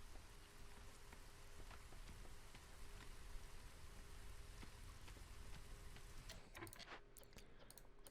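Steady drizzle rain during the drizzle season in the video game Against the Storm, a dense, even hiss of light drops that continues throughout, with a few sharper clicks near the end.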